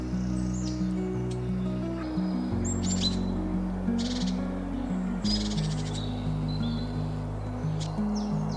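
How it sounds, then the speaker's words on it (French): Songbirds chirp and trill in short, bright phrases from several directions in a forest, over a constant low hum. "Les passereaux gazouillent dans tous les sens."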